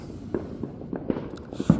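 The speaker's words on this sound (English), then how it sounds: "Like a little loud snapping of the fireworks." Fourth of July fireworks crackle and snap outdoors at night, heard as scattered sharp pops of varying loudness over a low, rumbling background, with one stronger pop near the end.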